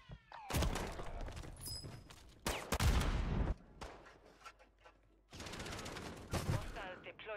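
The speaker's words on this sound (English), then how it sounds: "Look at that fucking gun. It sounds nasty." Gunfire from a gun in Call of Duty on Rebirth Island: loud bursts of rapid automatic shots, three main volleys separated by short pauses, close and harsh.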